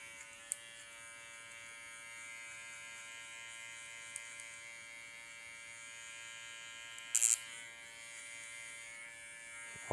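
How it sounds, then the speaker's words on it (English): Electric hair clipper running during a taper haircut, a faint, steady buzz with a few small clicks and a short louder bump as the blade works close to the head. "Only using the toe and the heel of my clipper."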